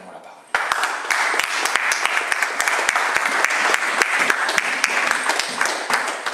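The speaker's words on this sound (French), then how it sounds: "Alléluia. Acclamons la parole." A church congregation bursts into loud, sustained applause after a quiet start, many hands clapping together in a dense, close wash that stays steady and then eases slightly at the end.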